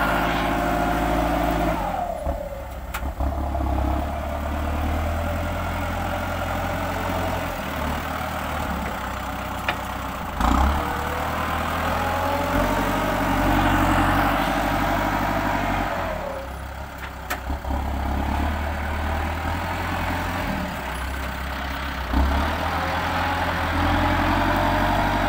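A Kubota M6040SU tractor pushes soil, its heavy diesel engine running steadily and close for the whole stretch, surging and easing several times as the load changes, with no talk.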